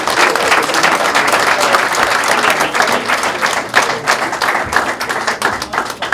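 Audience applause at an award ceremony where a heritage award is presented to Shabba Ranks, a dense, loud, steady wash of clapping from a large crowd lasting the whole stretch, with no speech over it.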